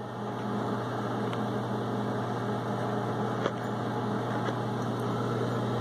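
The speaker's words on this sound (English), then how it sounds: "marshmallows expanding in the microwave." A microwave oven heating s'mores marshmallows runs with a steady electrical hum and fan whir, broken by a few faint ticks and clicks, close and with no talking.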